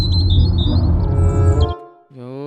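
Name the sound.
birds squawking in an added ambient sound of trees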